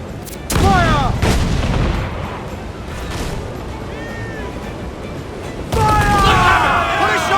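Heavy ship cannons boom in Assassin's Creed 4 Black Flag naval combat: a loud blast near the start and another about five seconds later, each trailing into a rumbling wash over constant battle noise, with faint crew voices and sea sounds between.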